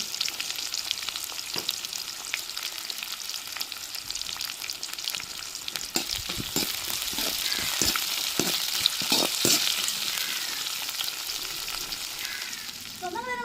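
Onion, garlic and green chili sauté in a hot pan, a steady close sizzle with intermittent stirring scrapes and clicks throughout, no voices.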